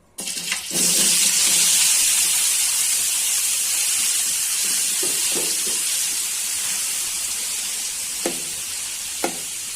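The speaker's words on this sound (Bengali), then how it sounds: "আগে থেকে বাপিয়ে রাখা কচুরলতিগুলা তেলে ভেজে নিচ্ছি।" Parboiled taro stolons dropped into hot oil, bursting into a loud, steady, close sizzle that holds throughout, with a couple of brief clicks of stirring near the end and no talk.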